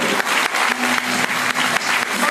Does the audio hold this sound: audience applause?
yes